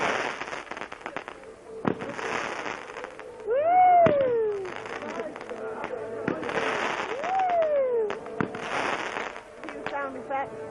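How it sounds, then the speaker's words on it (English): Fireworks at a bonfire night party in woodland: repeated loud bursts and crackles, with a couple of rising whistles, under people talking and calling out nearby. "Fireworks!"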